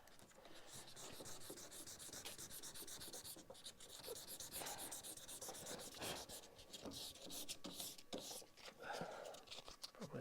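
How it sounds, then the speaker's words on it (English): Sandpaper rubbing over painted metal on a VW Crafter van's rear door, roughing up the paint: steady, close scratchy strokes that continue throughout the clip. "I've got this sandpaper there. I'm just going to rough that up on a line round there so that it bonds to that."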